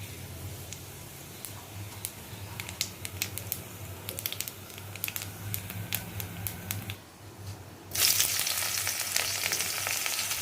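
Oil in a pan pops and ticks sparsely, then bitter gourd and pumpkin slices hit it and a loud, sustained sizzle erupts and continues close by.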